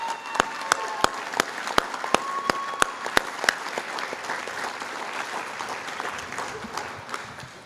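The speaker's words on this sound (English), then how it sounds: "Let's give her a round of applause." An audience at a 2010 men's conference forum applauds, its sharp separate claps standing out over a steady wash of clapping before thinning toward the end.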